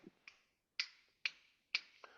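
Crisp finger snaps ring out one at a time in a quiet room, five sharp clicks at an uneven pace, each followed by a short decay.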